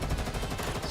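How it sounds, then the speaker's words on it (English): A short, unbroken stretch of rapid automatic gunfire from the video game Girls Frontline 2: Exilium, rattling loudly over a thick low-end rumble of battle. "The intensity of the dense gunfire pales in comparison to the cacophony all around."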